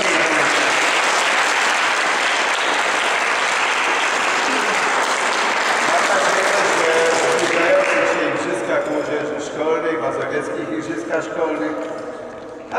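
An audience at a school volleyball tournament awards ceremony in Warsaw bursts into sustained, dense applause that fades after about eight seconds into scattered claps and murmuring voices.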